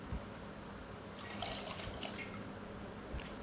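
Two tumblers of plain water are poured into soaked basmati rice already mixed with coconut milk, a soft continuous splashing and trickling at close range, heard on its own without any voices.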